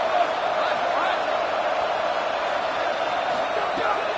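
Steady, dense roar of a Texas Tech football stadium crowd on a third down during a game against Penn State, loud and continuous throughout, with faint whoops rising out of the wash of noise.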